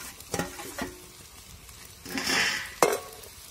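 Potatoes dropped into hot oil for Maharashtrian potato chutney: a few utensil clinks and stirring scrapes, then a brief burst of sizzling and a sharp clatter near the end, close up with no talking.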